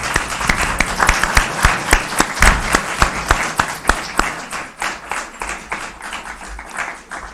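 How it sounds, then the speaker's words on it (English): Audience at a school board candidate panel applauding the candidates, individual claps distinct within a moderate crowd, rhythmic and fairly close, tapering toward the end. "since you all were so good and withheld your applause throughout the evening, now's the time to let them know."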